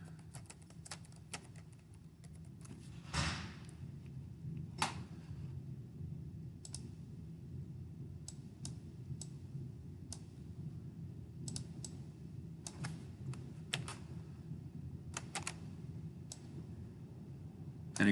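Sparse clicks of typing on a computer keyboard while entering settings in CorelDraw for a Universal laser engraver, quiet and intermittent over a steady low hum, with a few louder keystrokes.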